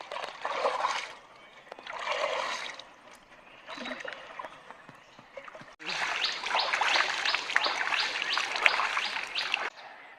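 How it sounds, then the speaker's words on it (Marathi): A river flows beside a homestay in Konkan, its water rushing as a steady broadband wash. Brief voices come and go before the flow swells loud and continuous. "सुंदर छान नगरी जवळच नदी वाहते"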